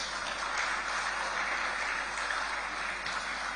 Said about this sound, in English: can I hear the round of applause?